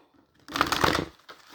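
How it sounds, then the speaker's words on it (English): Tarot deck being shuffled by hand, one brisk riffling burst of cards close by after a quiet moment, followed by a softer brief rustle. "Give me a good shuffle, babies."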